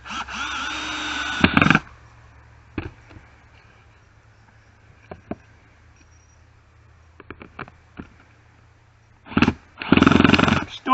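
Power drill driving screws into wood for a goat tablet holder, with two close, loud bursts of motor whine at the start and end, separated by quiet stretches of scattered clicks and handling knocks.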